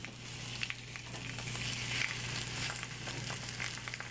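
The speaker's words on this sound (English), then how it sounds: "You're gonna want to flip your eggs without breaking them." Eggs sizzle and fry steadily in a pan while being gently flipped, a continuous close crackle with a few soft scraping touches and no talk.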